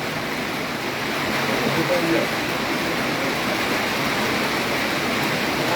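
A heavy downpour makes a constant, full-bodied roar of falling water, loud and unbroken for several seconds with a slight swell in the middle.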